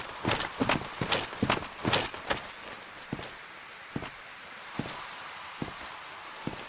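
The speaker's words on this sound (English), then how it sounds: "Okay, those aren't my footsteps. You're hearing that too, right, Bill? Mm-hmm. There's a footstep somewhere." Footsteps in Dark Souls, armoured and fairly distinct, start as a quick cluster of thuds and then settle into a slower, evenly spaced walking rhythm that grows fainter over a low ambient bed.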